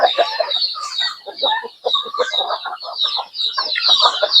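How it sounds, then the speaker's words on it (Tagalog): Chickens on a small farm cluck and chatter in a busy, overlapping flock while being fed, with turkeys nearby; the calls come close and fairly loud in a steady stream of short bursts. "tapos ngayon nagpapakain si Joel ng mga manok"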